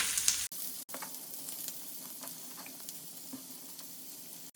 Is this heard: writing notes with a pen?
no